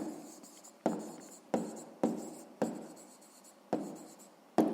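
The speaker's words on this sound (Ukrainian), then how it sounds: "Ну що ж, записуємо відповідь." A pen writes out the answer to a sixth-grade maths exercise: about six scratchy strokes in quick bursts, each starting sharply and trailing off, close and clear with no talking.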